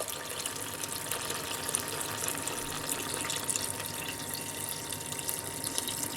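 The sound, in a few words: water poured into a cooking pot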